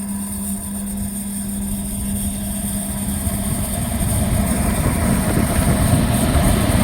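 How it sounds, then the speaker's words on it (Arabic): A three-phase electric motor run on single-phase power through a capacitor hums steadily at speed, a close, continuous drone that grows slightly louder toward the end. "الموتور اشتغل اهو"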